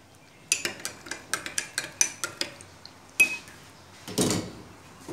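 A spoon clinks rhythmically against a cup while stirring sugar into tea, about a dozen quick close taps followed by a few louder knocks and a brief rattle.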